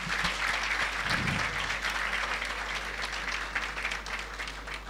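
A large audience at a university faculty anniversary ceremony keeps up continuous applause, a dense wash of clapping at a steady level from start to finish.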